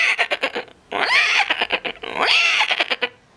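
A person imitates a horse with their voice: two long, wavering whinny-like calls separated by short, choppy snorting bursts, loud and close.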